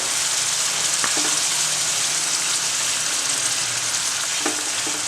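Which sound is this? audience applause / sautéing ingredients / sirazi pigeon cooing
sautéing ingredients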